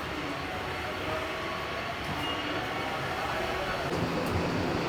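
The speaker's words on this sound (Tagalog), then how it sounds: "Oh, we missed the train again." A train pulls away from a subway platform at Higashi Ginza station in Japan, a steady rumbling roll of wheels and motors with faint squeals, moderately loud in an enclosed station.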